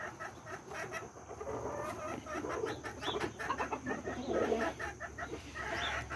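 Roosters in a chicken coop cluck steadily and irregularly at close range, with soft bird calls and clucks overlapping throughout against low background noise.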